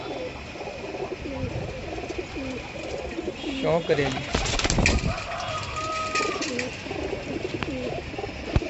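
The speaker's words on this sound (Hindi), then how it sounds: "सभी इनके ये कबूतर उड़ते हैं" Pigeons coo and call around a rooftop pigeon loft in Amritsar, a steady layered murmur of birds close by, with someone talking over them for much of the time.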